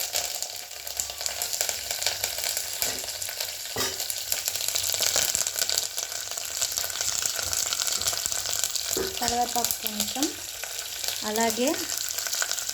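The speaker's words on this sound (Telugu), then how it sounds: "ఈ మిర్చి అనేది కొంచెం ఫ్రై అవ్వాలండి." Green chillies frying in oil in a home kitchen pan, a steady broadband sizzle throughout with a few short spoken words over it.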